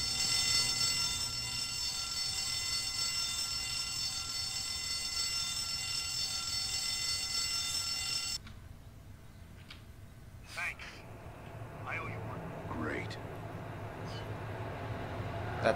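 A loud, continuous electronic alarm rings through a building in Rainbow Six Vegas 2, a steady high tone over gameplay noise that cuts off abruptly halfway, followed by quieter ambience and brief sounds.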